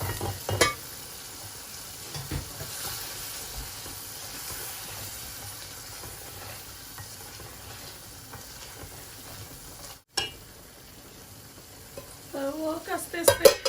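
Onions softening in a hot pan for a rohu fish curry with lime leaves, a low continuous sizzle with occasional clinks and stirs, brief scraping near the end.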